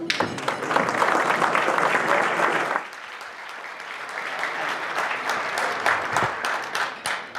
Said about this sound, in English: Please welcome the President and CEO of the Kauffman Foundation, Wendy Guillies.